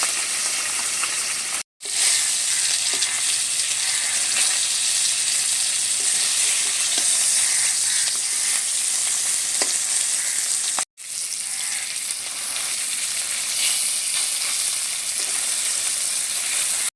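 Fish, a large Japanese threadfin bream full of roe, fries in hot oil over a strong flame, giving a loud, dense, continuous sizzle with faint crackles, close up, broken by two brief dropouts.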